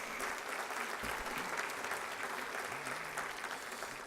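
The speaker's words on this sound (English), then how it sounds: "So let's give the Centinela Valley Union High School District a big round of applause." An audience at a State of the City address gives a big round of applause for a local high school district, a dense, steady wash of clapping throughout with no speech over it.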